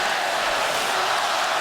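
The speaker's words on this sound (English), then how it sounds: "this crowd getting more and more vocal deeper and deeper into the third" A hockey arena crowd during the third period of a Flyers–Sharks game at SAP Center, roaring in a dense, continuous wall of cheering noise.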